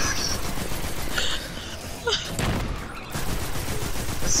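Spike rockets firing and exploding in the video game Destiny 2, a dense run of sharp bursts and blasts layered over continuous game noise, with a person's exclamation partway through.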